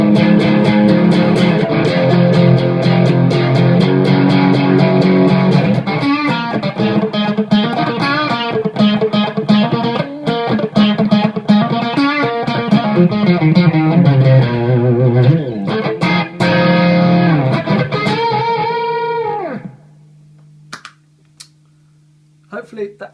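Electric guitar driven hard through an MXR Badass 78 distortion pedal plays loud, saturated chords and riffs, sustaining densely before the last chord rings out and cuts to a low amp hum.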